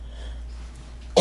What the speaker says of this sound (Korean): 기침 나서 말 못하겠는데 왜?